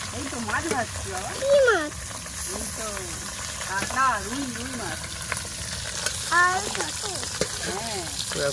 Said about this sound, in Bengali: এবার শাক ভাজা কাঁচা ভাজা